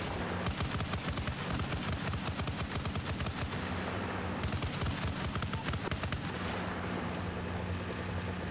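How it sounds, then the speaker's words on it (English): An MG42 machine gun firing in a WWII scenario in the video game Arma Reforger, long sustained bursts of rapid automatic fire with short pauses, loud and dense, with no talking. "That's an MG42 shooting at us."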